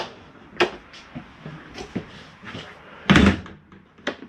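Doors and cabinets shutting inside a MesaRidge 338BHS RV trailer, a series of separate knocks and thuds spread through the clip, one clearly louder than the rest, with no talking.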